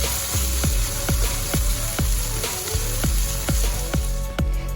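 Taco filling for Mexican tacos frying in a pan, with a dense, loud, steady sizzle and regular scraping spatula strokes about every half second throughout.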